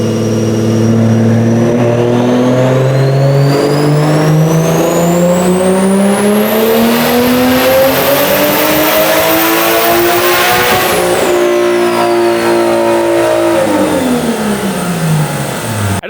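A big-turbo BMW engine on a dyno revs steadily upward for a long, loud pull, pitch climbing for about ten seconds with a rising turbo whine, then drops back as the throttle lifts.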